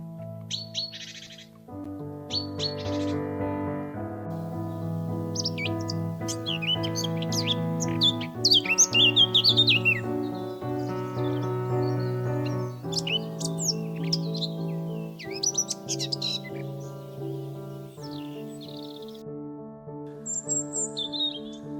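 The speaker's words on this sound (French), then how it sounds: "Les deux couples de linottes reviennent dévorer les graines de pissenlit." Linnets feeding on dandelion seeds chirp in quick, bright bursts of twittering over a sustained tonal musical bed, the calls scattered and fairly close throughout.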